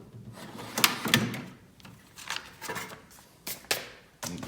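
A small wooden drawer in an old machinist's tool box slides and knocks, giving several short scraping and thumping bursts with quiet gaps between them, close and fairly soft.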